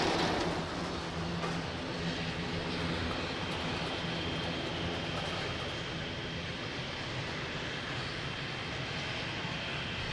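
A fixed-wing airliner on its takeoff run on runway 02 at Lisbon Airport, a loud broad engine roar heard from a distance, sustained and slowly easing over about ten seconds, with no voices.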